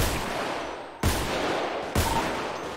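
Two sharp gunshots ring out about a second apart during a video game shootout in Little Seoul, each with a booming decay over a steady background rumble.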